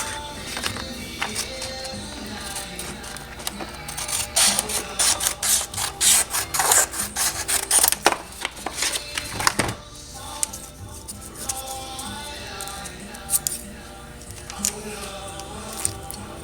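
Sandpaper being cut into pieces for sanding a Walther PPK feed ramp, heard as close, scratchy rubbing and rasping strokes in irregular bursts, with a few sharp clicks and no talking.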